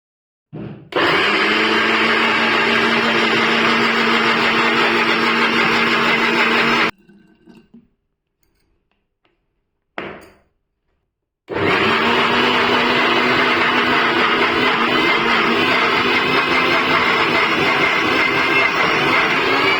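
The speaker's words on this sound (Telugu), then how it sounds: "ఇప్పుడు దీన్ని ఒకసారి ఆన్ చేసి చూద్దాం ఒక జార్ని అయితే టెస్టింగ్ అయితే చేసి చూపిస్తాను" An RR Signature Grindmate PRO mixer grinder running with a jar fitted: a loud steady motor whine for about six seconds, a brief stop with faint handling noises, then the same loud whir starting again and running to the end.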